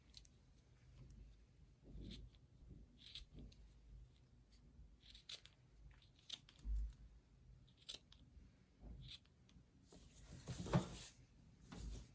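Scissors cut away part of a no-sew DIY cowboy gnome craft, making faint, scattered snips and soft rustles of material close by, ending in a brief louder crunchy cut, with no speech.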